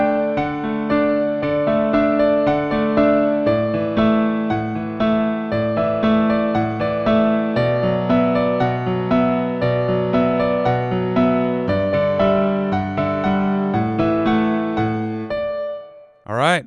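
Solo piano plays the chorus of a song in a full, steady arrangement of melody over rolling chords, loud and continuous for about sixteen seconds, ending with a brief rising sweep.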